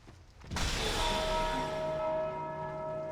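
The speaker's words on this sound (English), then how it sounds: "Of course, someone rang the bell." A bell rings out in the Dark Souls game: one loud strike lands about half a second in, then its bright, sustained tone hangs and slowly fades across the rest of the clip.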